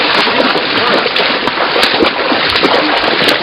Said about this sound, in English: Hey, don't splash the camera.